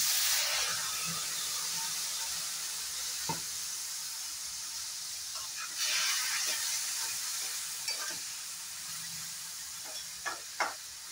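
Vegetables sizzling in a hot pan after a splash of water is added for a zero-oil vegetable soup, a steady bright hiss of steam with scattered pops and scrapes of stirring.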